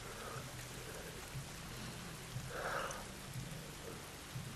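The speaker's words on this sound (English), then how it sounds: "This rain ain't gonna do us any good." Steady rain patters close by in the video game The Last of Us Remastered, with a faint low rumble briefly swelling beneath it; no voices.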